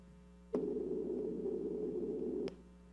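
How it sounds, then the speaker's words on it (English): A noisy two-frequency sine wave tone, a steady synthetic hum with a hiss of added noise, starts abruptly and holds evenly for about two seconds before cutting off cleanly, alone and fairly loud. "So that's what the noisy two frequency sine sounds like."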